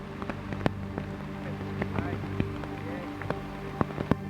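Rain falls in the Amazon rainforest of Peru, a steady wash of drops on foliage and muddy ground with scattered sharper close patters, fairly loud and even throughout.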